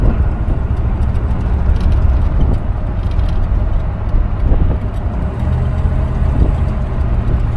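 A 1966 Cadillac Coupe de Ville cruises at speed, its engine and road noise forming a steady, fairly loud interior rumble that stays even and continuous throughout with no talking.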